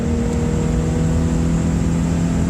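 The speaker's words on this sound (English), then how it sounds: "I'll do a quick downshift to 3rd." A Subaru Impreza GC engine holding a steady loud hum while downshifting to third gear at just over 60, heard close from inside the car.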